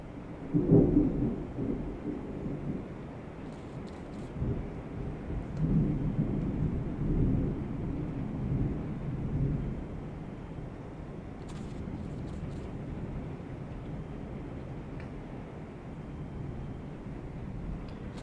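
Steady rain on a Monday afternoon in Kansas, with low rumbles of thunder rolling through, strongest near the start and again midway, under a continuous wash of rainfall.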